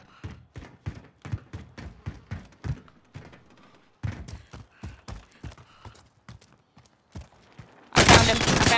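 Sustained gunfire in a video game: a rapid run of sharp shots in two bursts with a short gap between them, ending in a loud burst of broadband noise.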